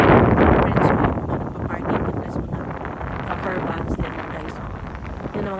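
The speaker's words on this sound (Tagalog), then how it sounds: "Mahangin ngayon. Sobrang hangin." Strong, cold wind by the sea beats hard and unevenly against the microphone at a coastal spot where a Coast Guard boat is being launched, while a person talks under the rumble.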